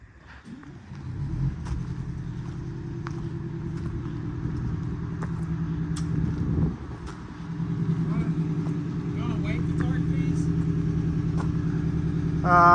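A stuck Prevost bus rolls forward after its brakes free up, a steady low engine rumble building and holding close by throughout, with a brief dip midway and voices talking faintly over it.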